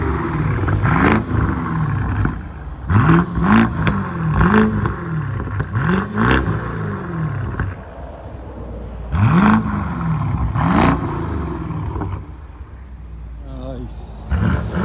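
A BMW 650i with a 4.4L V8 and straight-pipe exhaust revs repeatedly in loud, rising-and-falling bursts, some sharp and closely spaced, with people talking in between the blips.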